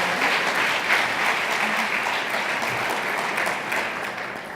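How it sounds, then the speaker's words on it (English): Sustained applause fills a hall at the Cayman Islands Healthcare Conference, an even, fairly loud roar of many clapping hands that tapers slightly at the close. "another round of applause"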